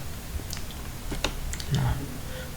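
Several quiet keystrokes are tapped out on a computer keyboard while entering server commands, a few scattered clicks ending with a firmer Enter press, under low background hum and brief talking.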